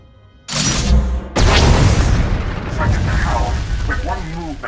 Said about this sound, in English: One movement, our flux cannons fire, and an Imperial capital ship is disintegrated.